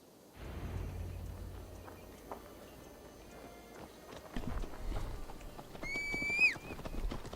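Horse in the Assassin's Creed Valhalla video game, heard as hoof clip-clops against a low ambient game background, with a rising whinny-like call near the end.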